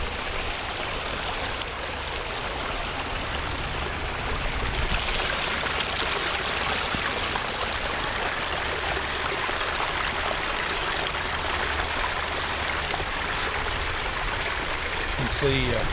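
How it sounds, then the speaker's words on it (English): A mountain stream runs down off the ridges beside the Chickamauga Creek Trail, giving a steady, full rush of flowing water. It stays close and constant throughout with no break. "You have another one of the streams coming down off of the tops of the ridges."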